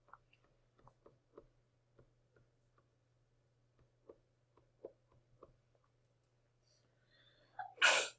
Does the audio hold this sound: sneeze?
yes